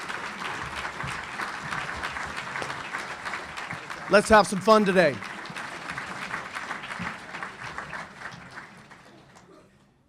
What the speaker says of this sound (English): please give a round of applause for a great leader who is my partner and our partner